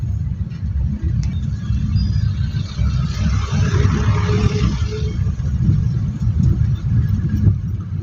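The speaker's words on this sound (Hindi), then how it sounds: "क्रेन तो नहीं जा रही, हार्वेस्टर जा रही है, हार्वेस्टर मशीन।" A harvester machine drives along a motorway with a continuous low rumble of engine and road noise, swelling slightly as it passes close by, with no voices heard.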